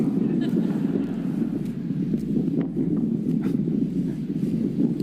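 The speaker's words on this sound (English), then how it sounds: "Been fighting this wind for about an hour." Strong wind buffeting the microphone along the Big Sur coast, a constant low rumbling roar with gusty fluctuations throughout.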